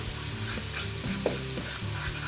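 Spices, including black pepper, toasting in a pan while being stirred, with a steady soft sizzle, faint scraping strokes and one sharp clink of the utensil partway through; no one talks.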